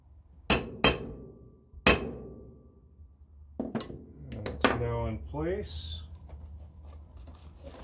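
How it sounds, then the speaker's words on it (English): Three sharp metallic hammer blows ring out close by while a part is driven into place on a 1983 Yamaha YZ490 engine, then a few lighter taps as a person speaks over some clinking. "I can still hammer it in place quick"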